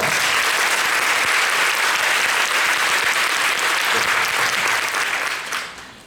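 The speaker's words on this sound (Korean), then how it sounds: "박수 소리가 너무 커서" A theatre audience applauds at a curtain call, dense and sustained clapping from a large crowd filling the whole stretch before it fades out at the end.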